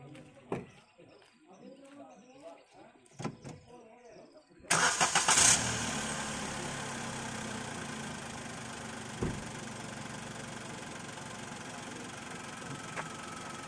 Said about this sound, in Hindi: कार ऑन हो गई, इंजन का साउंड सुन सकते हैं।